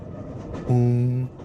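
Train moving in a video game: steady rolling rumble with a loud, sustained horn-like tone in the middle, no speech over it.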